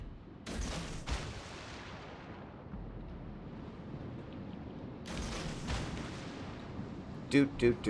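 Warship guns in World of Warships Legends boom out in a few heavy bursts, with a deep rumble hanging between the salvos and a short sharp cluster of shots near the end.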